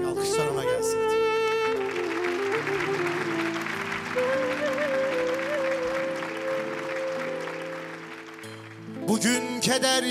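An audience applauding on a Turkish TV show stage, steady clapping that gradually fades while music plays underneath, then rises into a loud burst again at the end.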